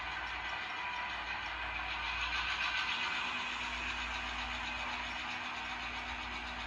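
A locomotive on a switching layout throttles up to push cars uphill, giving a steady, fairly faint engine rumble and hum that builds slightly midway, with no talking.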